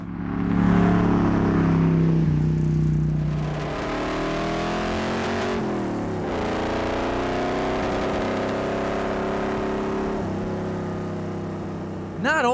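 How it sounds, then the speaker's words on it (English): A 1966 Ford Bronco truck's V8-style engine roars loud and close as it accelerates hard, the pitch climbing through gears with a brief dip at a shift, then revving on steadily. "Not only does the truck have an awesome sound, but also the power to throw you back in the seat whenever you stomp on it."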